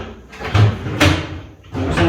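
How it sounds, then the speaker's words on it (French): A large wooden drawer on a drill press cabinet slides open and shut several times, giving close rumbling slides that end in knocking thuds, loud and alone. "j'ai mis un tiroir."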